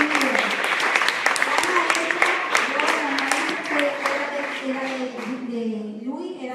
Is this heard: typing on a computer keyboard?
no